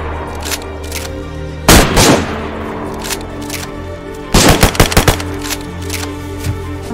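Gunfire in the DayZ video game, with loud bursts of shots in two clusters: a single heavy blast and then a rapid string of several close shots, with quieter gaps between them.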